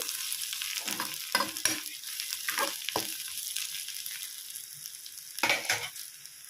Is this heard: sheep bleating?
no